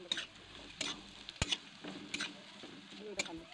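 Sugar being stirred into bottle gourd frying in a pan for Bengali lau masoor dal: a steady close sizzle broken by repeated spoon scrapes and clinks against the pan.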